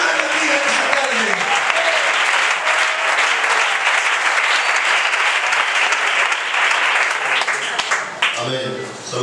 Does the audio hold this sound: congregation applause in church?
yes